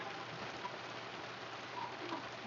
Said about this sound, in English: When do we ever get rain like this?